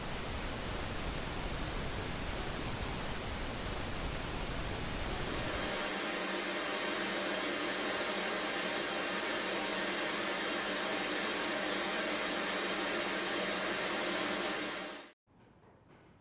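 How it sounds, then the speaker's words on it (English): Broadband white noise like the static of a TV or radio hisses steadily and evenly, holding at a constant level before cutting off abruptly near the end. "That's white noise."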